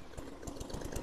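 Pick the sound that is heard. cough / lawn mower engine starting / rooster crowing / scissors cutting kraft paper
lawn mower engine starting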